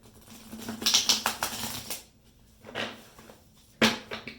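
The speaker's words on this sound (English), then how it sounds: "so I'm going to shuffle these cards" An oracle card deck is shuffled by hand, giving quick papery riffles and taps in short bursts, with pauses between them and a final sharp slap of the cards, close and clear.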